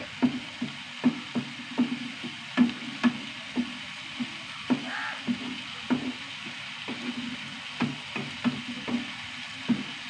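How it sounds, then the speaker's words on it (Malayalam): Eggs are scrambled and fried in a pan with tomato, making a steady sizzle punctuated by regular scraping and stirring knocks about every half second, close and clear with no talking. "ചിക്കി പൊരിക്കാം."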